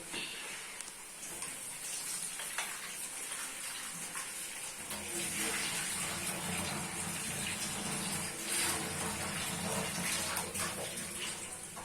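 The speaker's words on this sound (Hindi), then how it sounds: "हरी मिर्चों को धो लेते हैं पहले" Green chillies rinsed under running tap water while preparing a traditional Pakistani egg curry; a steady, close rush of flowing water fills the whole stretch, growing a little fuller midway, with no talk.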